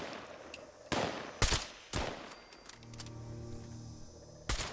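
Turret gunfire in Fallout 76, several sharp, loud bursts of shots with short gaps between them, alone with no talk over them.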